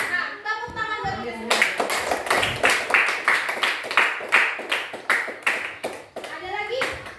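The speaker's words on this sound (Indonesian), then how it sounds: "Nah, tepuk tangan dulu." Children in a classroom clap their hands in a steady rhythmic pattern, roughly a dozen sharp claps in sequence after a brief spoken cue, with kids' voices mixed in; loud and close.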